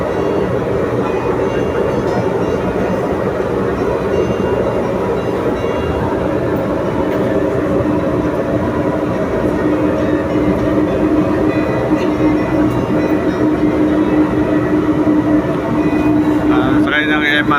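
Inside a moving MRT metro train in Manila, a loud, continuous rumble and roar of the carriage on the rails, with people talking over it throughout.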